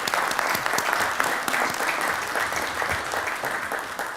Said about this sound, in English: So let's give Alpha Phi Alpha a hand clap.